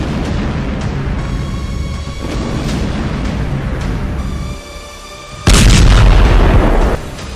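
Explosions from Israeli strikes in Lebanon, deep booms over a rumbling background, with one sudden, loud, close blast near the end that lingers for about a second and a half.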